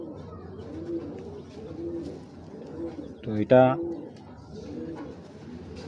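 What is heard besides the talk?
racing pigeon cooing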